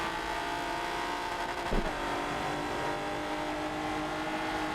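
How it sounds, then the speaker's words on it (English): A line of Clio V6 Cup race cars leaves the pits during a race at Watkins, their engines a steady, sustained roar with one brief, louder burst partway through. "train of cars coming out of the pits"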